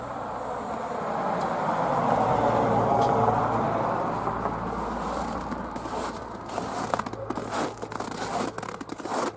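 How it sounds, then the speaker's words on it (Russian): Crunching, crinkling footsteps in snow in a village, steady and close, with scattered sharper crunches toward the end and no talking. "Снег под ногами шуршит. Шуршит. Или как там сказать? Шумит. Хрустит."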